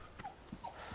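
A dog in the video game Resident Evil 4 gives a few soft, brief whimpers, fairly quiet and close.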